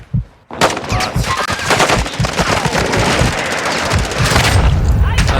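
Bot gunfire in the DMZ video game: loud, sustained bursts of automatic fire with booming impacts after a short quiet start, continuous and close, with no talk.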